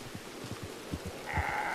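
Sheep bleating in Red Dead Online, with soft thumping footsteps close by and then one bleat near the end, clear and close.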